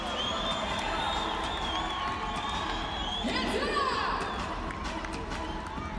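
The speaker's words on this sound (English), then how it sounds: "The crowd is loving this from Danielle Coutinho." Spectators at a professional women's volleyball match between LOVB Omaha and LOVB Atlanta cheer loudly and steadily throughout, swelling after a defensive play, with a commentator's voice running over the crowd.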